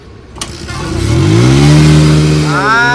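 A motorcycle left unused for four months sputters to life and revs up, the close, loud engine note rising and wavering before climbing again, with voices nearby.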